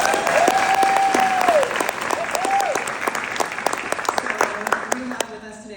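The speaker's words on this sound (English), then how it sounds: "Applause for all our graduates." Applause for graduates at a Stephens College master's commencement: a loud, dense round of clapping from a large audience, with a sustained whistle early on, then thinning into scattered individual claps and fading out near the end.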